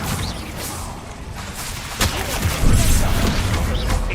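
A Bombarda blast spell goes off in Hogwarts Legacy, a sudden burst near the midpoint followed by a rumbling, crackling explosion that lingers loudly amid ongoing combat noise.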